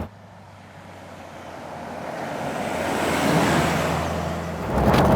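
Ex-army Land Rover Defender Wolf pickup on the move, a broad rushing drone of engine, road and wind noise that gradually builds in loudness, with no voices.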